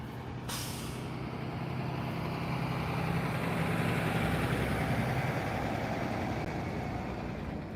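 A school bus engine idles and rumbles steadily at moderate distance, with a sharp air-brake hiss at the start, heard outdoors in early morning with no talk.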